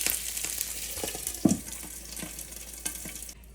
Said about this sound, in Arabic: البصل لما قطعته طرنشات كده هنزله عشان يتكرمل